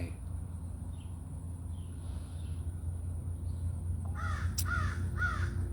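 After several seconds of quiet low rumble, a crow gives three quick harsh caws near the end, fairly distant.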